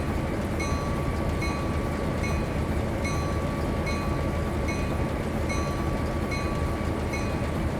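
Alco RS-27 diesel locomotives working a model railroad, a steady loud rumble with regular rhythmic clicking, close and continuous with no talk.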